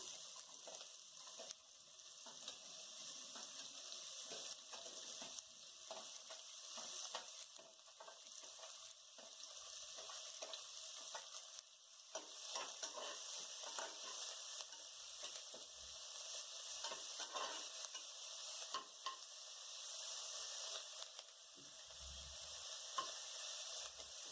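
Chopped onion fries in oil after the spices, a steady hiss that carries on throughout with occasional scraping and stirring clicks, a moderate level with no talk, while onions cook for a vegetarian amaranth and fenugreek biryani.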